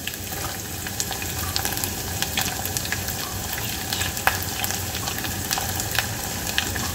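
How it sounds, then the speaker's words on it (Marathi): Chopped onion sizzling steadily in a pan with ginger-garlic paste, a continuous close frying hiss with occasional sharp crackles and pops, for popat rice; no talking. "कांदा छान परतून घ्यायचा आहे, ब्राऊन होतपर्यंत."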